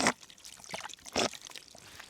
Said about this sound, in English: there'll still be ice cold water coming out of this pipe